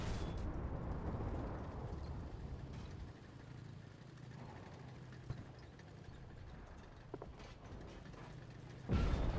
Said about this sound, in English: we're taking all kinds of fire